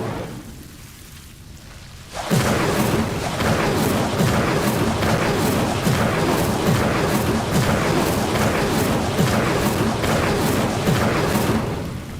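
An Incendio fire spell cast in Hogwarts Legacy bursts in suddenly after a quiet moment, then roars as loud, dense, crackling flame, with rhythmic pulses, until the end.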